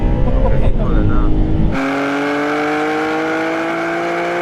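BMW M3 and M4 accelerating hard side by side in a drag race, a loud roaring engine note that drops to a steady high whine as they pull away, with excited talk and shouting over it.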